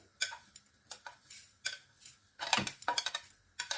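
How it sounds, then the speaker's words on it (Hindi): Whole coriander seeds going into a pan for mixed vegetable achar: quick, close clinks and ticks of seeds and utensil against metal, scattered at first, then denser near the end, with no voices. "अब हम इसमें अपना साबित धनिया जो है वो डालेंगे"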